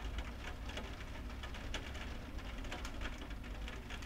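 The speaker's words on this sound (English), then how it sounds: "For right now, I can hear the sound of rain on the window." Steady rain patters against a window, a continuous soft hiss dotted with individual drop taps, faint and even throughout with no voices.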